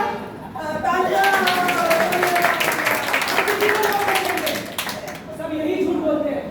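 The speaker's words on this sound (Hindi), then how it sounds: "तालियां, तालियां।" An audience at a student theatre festival play claps in a dense, lively burst under and between loud voices on stage that keep talking throughout.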